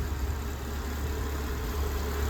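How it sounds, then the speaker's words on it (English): A Suzuki Jimny engine with an erratic idle runs untouched at a steady idle: a low, continuous mechanical hum with faint vibration, close by and unchanging throughout. "So I'm supposed to leave it 5 to 10 minutes just idling without touching the throttle at all"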